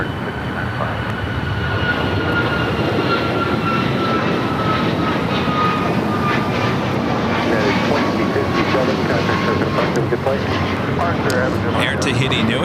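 An airliner takes off from runway 25 right at LAX, a loud, steady broadband roar holding for the whole stretch, with faint whining tones drifting across it and no talk over it.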